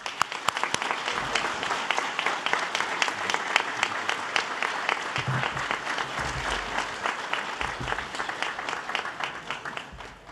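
Sustained applause from an audience at a Ballston Spa Central School District board meeting honoring students, with many hands clapping steadily and several sharp, close individual claps standing out over roughly ten seconds.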